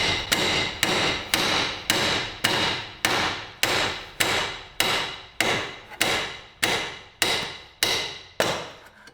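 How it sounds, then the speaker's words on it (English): A steel hammer strikes a Land Rover Freelander wishbone ball joint, a dozen or so sharp metallic blows in steady rhythm, each ringing briefly before the next, loud and close with no talking. "hit it with the hammer"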